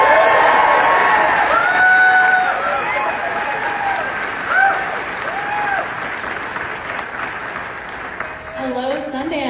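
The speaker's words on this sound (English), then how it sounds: "Please give her a big round of applause." Sustained audience applause and cheering at a Sundance premiere, loud and dense at first, then easing, with whoops and shouted voices rising above the clapping and a voice speaking near the end.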